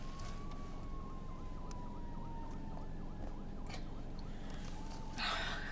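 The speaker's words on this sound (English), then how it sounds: "Sirens have been going off like crazy" A distant emergency vehicle siren wails steadily in the background with a slowly falling tone, faint over constant low ambient noise, with no talking, ending in a brief burst of broadband noise.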